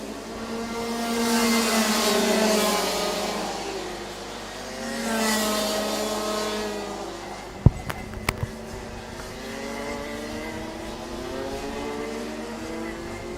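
Race cars lapping a circuit during a Thailand motorsport round, with engines swelling and fading as they pass by, rising and falling in pitch, followed by a few sharp clicks and knocks and another car passing.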